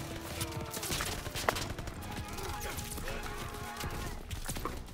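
Gunfire in the Call of Duty WWII video game sounds as scattered shots and sharp cracks over a busy battle din, at moderate level, with brief speech mixed in.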